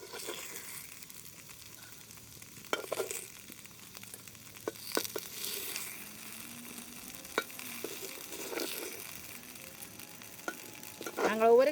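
Dosa batter frying in oil on a griddle for a vegetable kundu dosa, a faint, steady sizzle with scattered small pops and clicks, growing louder near the end.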